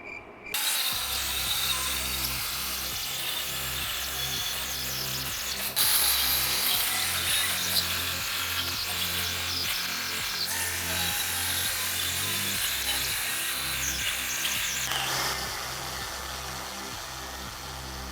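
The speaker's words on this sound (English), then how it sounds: "this is some cheap Power Glide grinder, but the handle is a genuine Makita handle" A cheap Power Glide grinder fitted with a genuine Makita handle, grinding with a loud, continuous motor whine and a rough buzzing rattle. It runs steadily for about eighteen seconds with slight shifts in load.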